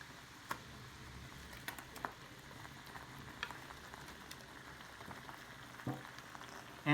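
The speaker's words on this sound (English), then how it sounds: "now it is boiling, the sauce is boiling" Ginger pork sauce bubbling in a pan for shogayaki, a soft, low simmering hiss with scattered faint pops and crackles, quiet and steady with no voices.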